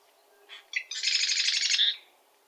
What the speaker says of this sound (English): marsh wren, to me, they sound like an old-fashioned, like pedal-activated sewing machine.